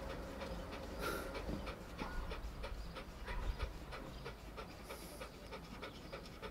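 A dog pants steadily in a moving car, quick rhythmic breaths close by over a constant road and engine rumble, with no talking.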